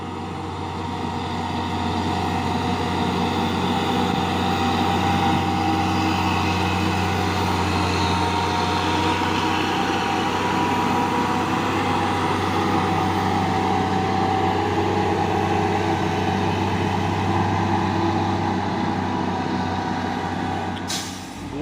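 A heavy tanker truck engine rumbles loudly and steadily for a long stretch on a highway, a constant low drone with a brief hiss near the end.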